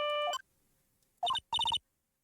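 A phone rings in the Phoenix Wright video game as a bright electronic chime that plays a short tune, pauses, then repeats in two clipped bursts.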